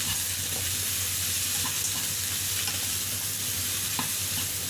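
Vegetables for chop suey stir-frying with salt in a hot pan, a steady loud sizzle with a low hum beneath and occasional scraping stirs, no voices.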